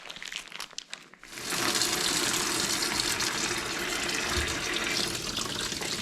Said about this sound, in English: get it over to the sink and give it a rinse